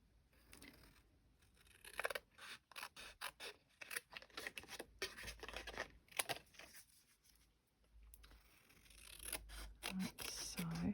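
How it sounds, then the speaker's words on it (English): Scissors cutting a Happy Easter paper card label, quiet crisp snips in an irregular series, close up in a calm room, with brief soft paper handling and a little speech. "Then also we're going to cut out the Happy Easter."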